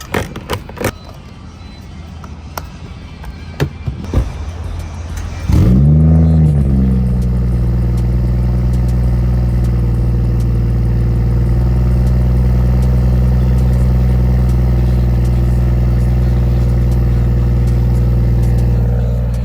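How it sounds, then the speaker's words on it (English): BMW 540i with an exhaust valve, heard from inside while driving: a loud steady engine drone with low exhaust tones fills the clip after a sudden rise at about five seconds, following quieter road rumble and clicks. "I low-key can still hear that exhaust valve a little bit."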